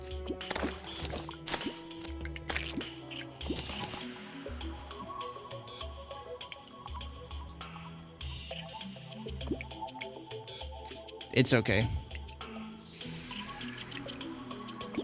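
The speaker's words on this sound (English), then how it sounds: "My summon keeps jumping into the water and making me think that there's a fish on the hook." Small splashes and drips as a summoned minion in Terraria keeps jumping into water near a fishing line, scattered over steady game music with a brief voice, and one sharper splash burst near the end.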